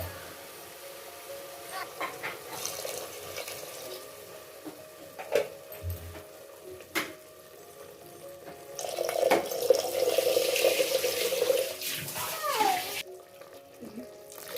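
Water pours steadily into a pot of rice for a few seconds, a soft splashing rush amid quiet kitchen clatter and brief knocks.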